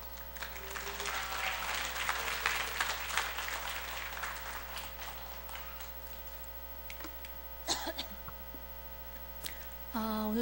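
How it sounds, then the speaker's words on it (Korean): A church congregation applauding to welcome a pastor to the pulpit during a Sunday afternoon service, moderate clapping that fades out midway, over a constant low electrical hum, followed by a few clunks and handling noises. "큰 박수로 환영하겠습니다."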